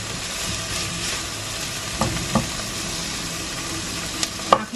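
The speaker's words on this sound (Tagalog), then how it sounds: "At susunod ko na yung ating sibuyas." Onions sauté in a pan for pork fillet menudo, a steady close sizzle broken by a few sharp utensil clinks as they are stirred, with no talking.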